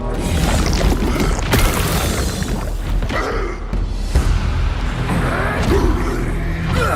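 A loud, dense plague explosion spell in the game No Rest for the Wicked roars with booming low rumble and crackling bursts, sustained and heavy throughout.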